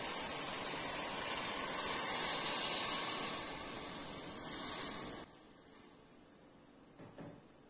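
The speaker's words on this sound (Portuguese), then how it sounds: "Agora aqui eu vou acrescentar 350 ml de água." Water, 350 ml of it, is poured into a pot of seasoned chicken, a steady loud rushing hiss lasting about five seconds that stops abruptly, leaving a quieter sizzle and faint clatter, with no one talking.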